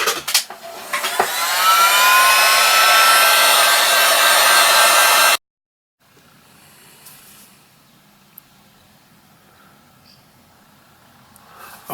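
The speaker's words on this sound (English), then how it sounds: "I'm going to take the blow dryer and blow dry off this just a little bit." Blow dryer drying a watercolor painting of a vase and sunflowers: a loud, steady airy roar for about five seconds cuts off abruptly, leaving quiet room tone.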